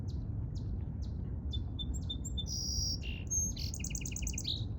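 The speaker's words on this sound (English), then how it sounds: "sparrow" Small sparrow chirping in short, bright notes, sparse at first and then a quick trill near the end, over a low steady background rumble.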